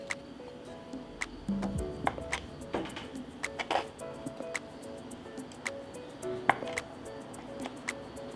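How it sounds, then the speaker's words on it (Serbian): Knife slicing thin pieces of hard cheese on a board, a series of crisp, sharp ticks spaced irregularly, close and fairly quiet over faint background hiss. "Dok se fil prži, iseći ću par listića tvrdoga sira."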